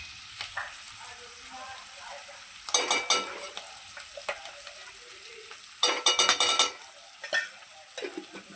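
Ghee sizzles in a pan as an offering dish is fried and stirred, with bursts of louder stirring and sizzling at intervals over a quiet, steady background.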